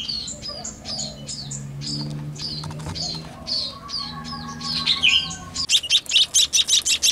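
A hungry Javanese munia chick chirps eagerly at feeding time, a run of thin, high repeated tweets that quickens into rapid insistent peeps, close by over a low murmur of background sound.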